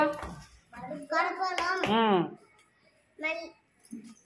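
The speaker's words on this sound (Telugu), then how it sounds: "చప్పలు కొట్టండి" Children clap their hands in a classroom, a few bursts of claps mixed in with kids' voices calling out, close by.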